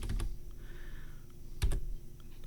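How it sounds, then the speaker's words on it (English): Fingers tap out a short word on a computer keyboard, a few quick, soft clicks close by, with one louder cluster of keystrokes near the end and quiet between them. "just to make sure everything's working, we can type in VMware"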